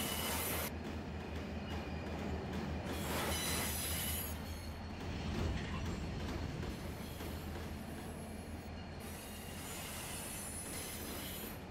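Freight trains rolling in Run8 Train Simulator, with a steady rumble, wheel squeal and clicking rail joints running continuously at a fairly close, even level.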